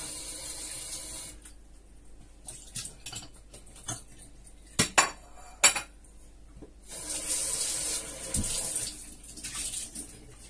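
Tap water runs and splashes over cherry tomatoes in a kitchen sink while breakfast is made, with clinks of dishes and cutlery, then a steady louder rush of water near the end.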